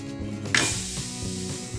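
A thalipeeth flatbread of jowar, bajra and methi dough set onto a hot griddle, giving a sudden hiss that settles into a steady soft sizzle, close and clear with no talking.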